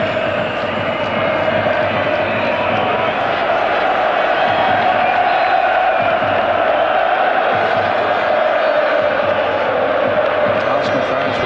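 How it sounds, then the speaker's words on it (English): Arsenal football fans roar and cheer in a packed stadium at a European Cup Winners' Cup final, a loud, sustained crowd din with chanting voices that holds steady throughout. "Arsenal fans with plenty to cheer at the moment."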